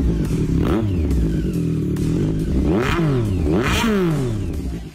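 Triumph Street Triple RS motorcycle with a titanium race exhaust revving close by, several sharp throttle blips rising and falling over a loud idle, with no talk.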